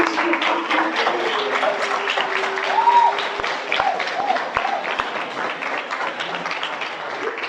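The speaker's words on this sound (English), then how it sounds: "Keep that round of applause coming as he walks down to the stage" An audience at a university lecture on personal branding breaks into sustained clapping, a fairly close, even wash of hands with a few sharp taps and brief voices mixed in.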